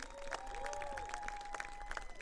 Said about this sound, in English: let's have one more round of applause for the Marching Band 2020